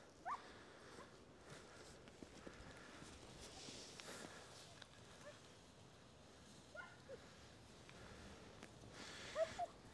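A collie barking outdoors, a few distant short yips and barks scattered over a noisy outdoor background, with louder barks near the end.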